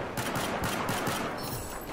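Rapid gunfire in Battlefield 4, a dense burst of close, loud shots in quick succession over a sustained noisy wash, without talk.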